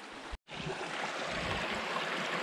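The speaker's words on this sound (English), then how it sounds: "And we're still right next to the creek." Lick Creek flows close by on a rocky trail, a steady broadband rush of water that drops out for a split second early on before resuming evenly.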